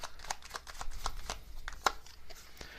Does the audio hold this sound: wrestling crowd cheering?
no